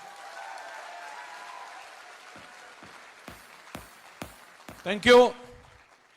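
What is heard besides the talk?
audience applause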